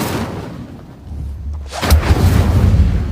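An Incendio fire spell is cast in a Hogwarts video game, a heavy thumping burst followed by a loud crackling whoosh of flame that carries on to the end.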